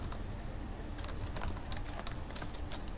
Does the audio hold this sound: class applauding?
no